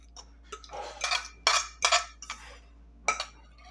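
A utensil scrapes and clinks against a pan while banana pancake batter is stirred, several short scraping strokes and light taps at close range, with no talking.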